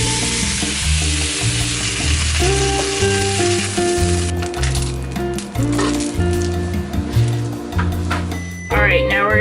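Cauliflower rice frying in a pan, with a continuous bright sizzle and occasional stirring under prominent background music.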